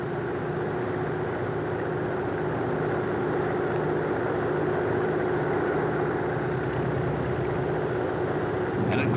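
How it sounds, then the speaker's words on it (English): An SB2A Buccaneer warplane on a clean-wing takeoff run gives a continuous droning engine roar, steady and moderately loud with a low pulsing hum, building slightly toward the end. "A clean wing takeoff like this will require a relatively long run."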